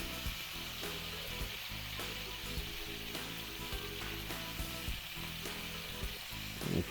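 Sauce with fermented anchovy salt is stirred in a hot wok beside browning beef ribs, giving a loud, steady sizzle and frying hiss with repeated scraping stir strokes, close up and without speech.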